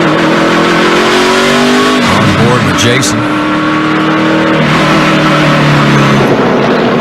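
A NASCAR race car engine roars loudly on pit road at Richmond during a 2011 race, with the pitch climbing and dropping. A commentator talks over it throughout.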